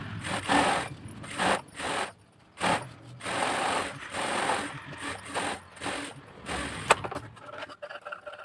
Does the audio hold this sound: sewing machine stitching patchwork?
yes